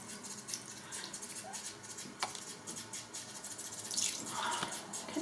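A shaving scuttle rinsed under a running tap: a continuous close hiss of flowing water with light splashes and a brief clink, swelling slightly louder toward the end.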